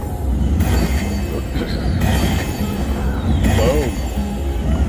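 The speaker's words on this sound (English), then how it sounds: "Come on, train. Down the tracks." Train sound effects from the Dragon Train slot machine, with rumbling rail clatter and a brief squeal under steady casino noise and excited talk.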